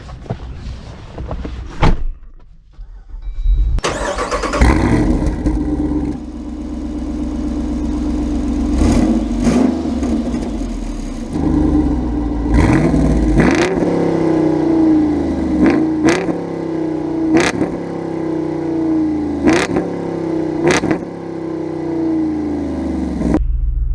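A 2024 Jeep Wrangler Rubicon 392 V8 cranks and fires into a loud, deep idle close by, followed by several sharp throttle blips that rise and fall, with a door thud near the start.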